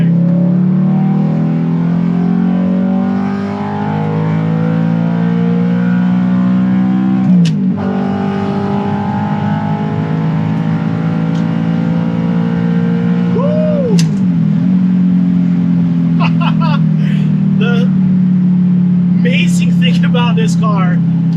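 Audi R8 with a gated manual gearbox accelerating hard, its engine note climbing steadily through long gears with brief dips at the shifts, loud and close, while someone talks over it.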